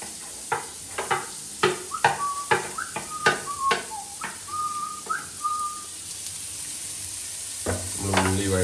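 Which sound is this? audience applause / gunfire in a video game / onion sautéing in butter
onion sautéing in butter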